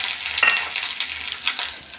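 Eggplant fries in a pan with crushed garlic, cumin and dried chillies, a steady close sizzle broken by a few scraping stirs of a spatula, with no voices.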